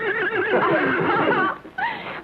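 Palomino horse gives a loud, close whinny with a wavering, quavering pitch that rises and falls, then breaks off briefly and ends in a shorter neigh, with no talk over it.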